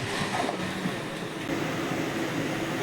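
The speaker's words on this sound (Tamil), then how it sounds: "பாய் பாய் உழவன் எக்ஸ்பிரஸ்" The Uzhavan Express rolls past on the rails near a station, a steady close rumble of wheels and carriages with a faint whine and no speech.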